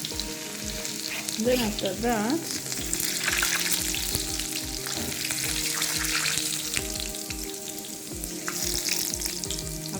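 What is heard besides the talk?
garlic frying in oil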